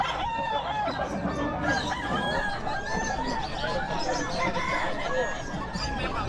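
Roosters crow repeatedly and chickens cluck steadily at a busy Bocaue pet market, a dense, close chorus of fowl with people chattering underneath.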